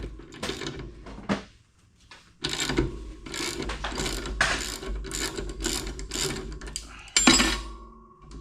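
Finger pinch and lever assembly being taken off a 1982 mower, heard as close, continuous metallic clicking, ratcheting and rattling of parts with a few brief pauses and no talk.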